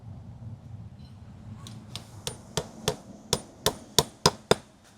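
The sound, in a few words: hammering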